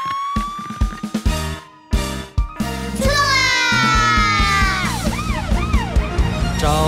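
A cartoon fire engine's siren wails loudly in rising and falling sweeps over a bouncy children's song. Honking toots come first, and no one speaks during the siren.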